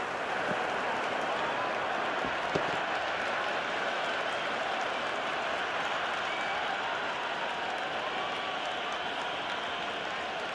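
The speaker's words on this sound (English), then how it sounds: "all these spectators here today are completely enthralled and energised, judging by that noise anyway" A steady, dense roar of crowd cheering and applause in the cricket video game Cricket 26 fills the whole stretch, loud and continuous, with a faint background commentary-like murmur.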